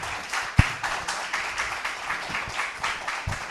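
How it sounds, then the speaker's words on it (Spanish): A congress audience applauds the moderator and speaker, a soft, fairly distant patter of clapping that holds steady with a few sharper individual claps. "Un aplauso grande."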